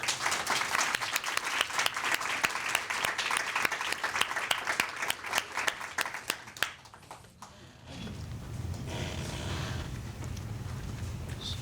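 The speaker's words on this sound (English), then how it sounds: "So let's give them a round of applause." Sustained audience applause at a fellowship lecture, steady clapping for several seconds that fades out, followed by quiet room tone.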